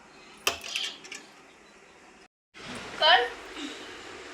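Dishes and utensils clatter as a home kitchen is tidied, a few metallic clinks and knocks near the start, a short pause, then a brighter ringing clang of a pot or plate amid household noise.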